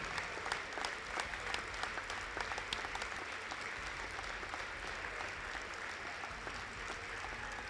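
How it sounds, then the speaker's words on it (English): Sustained crowd applause in a gymnasium at an Elmhurst College basketball game honoring the 2012 volleyball team, a steady dense patter of many hands clapping at moderate distance, with no speech over it. "one more round of applause for the 2012 Elmhurst College volleyball team"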